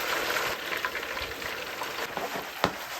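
Orange-glazed beef and sauce sizzling steadily in a hot pan, a loud continuous close-up fry hiss with small pops and one sharper crackle near the end.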